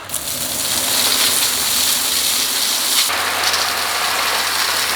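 Corn and grain chicken treats pour from a bag in a dense, continuous rattling rush, loud and close, shifting in tone partway through as the flow changes.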